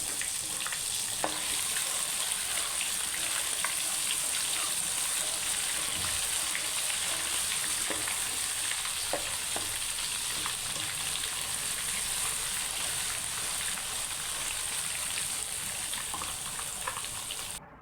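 Ginger garlic paste frying in hot oil for Punjabi kadhi, a steady close sizzle and crackle with occasional scraping stirs throughout, with no voices over it.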